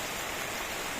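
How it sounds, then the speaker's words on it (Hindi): Heavy monsoon-style rain pours down in a steady, dense hiss with no breaks, close and fairly loud, no voices over it. "झमाझम बारिश हो रही है।"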